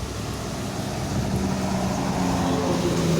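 A new NPM intercity bus rolling past on a road toward West Sumatra: a steady broadband engine and tyre rumble that swells slightly as it nears, with no voices over it.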